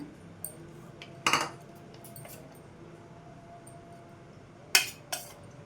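A metal spoon clinks sharply against a steel bowl and container a few times while ground toor dal and roasted gram lentil powder is scooped out, with quiet pauses between the close, bright taps.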